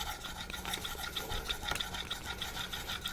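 A convex knife drawn in light, rounded passes across a Naniwa diamond whetstone, giving a close, steady gritty rasping with a faint rhythmic repeat of strokes, quiet and unaccompanied by talk.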